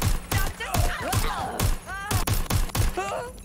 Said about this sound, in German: Vorsicht, Schüsse!